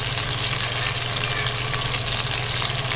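Onions browning in oil in a pan, a steady dense sizzle with a constant low hum underneath, even and unbroken throughout.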